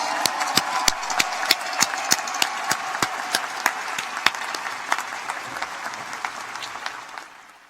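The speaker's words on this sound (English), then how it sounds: "Let's have a large round of applause for our 2021 Jones Scholars" An audience at a business school investiture applauds the 2021 Jones Scholars, dense sustained clapping with a few loud, sharp nearby claps popping out rhythmically, gradually thinning and fading toward the end.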